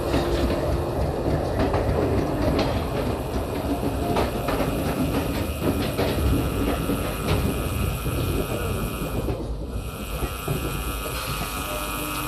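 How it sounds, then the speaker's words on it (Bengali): The 12130 Azad Hind Express rolls out from Howrah toward Pune, its wagons giving a steady rhythmic clickety-clack with rumbling wheels, heard loud and close from on board. "তো ট্রেনটা এখন আমাদের ছাড়লো 12130 আজাদ হিন্দ এক্সপ্রেস।"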